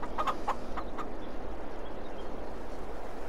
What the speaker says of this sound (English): let's go check up on the chickens.